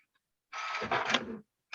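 A printer runs in a short burst of about a second, a close whirring and mechanical feed sound that starts and stops abruptly amid near silence.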